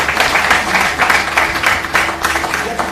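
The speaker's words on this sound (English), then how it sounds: "So please give them a round of applause." A room of attendees at a smart meter hackathon gives a round of applause, steady, close clapping that continues throughout.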